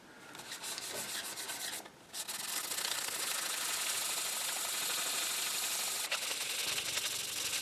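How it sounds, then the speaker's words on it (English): Steady rubbing of 600 grit sandpaper on a 1922 Chelsea Model 101 receiver, continuous and close, with a short pause near the start. "Using a 600 grit"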